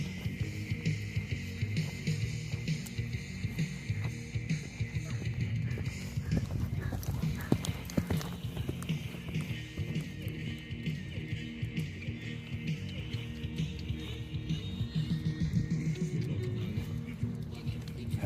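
Horses move at an outdoor equestrian arts performance where riders shoot arrows, their hooves drumming in a continuous irregular rhythm at moderate distance, with faint crowd and background noise mixed in.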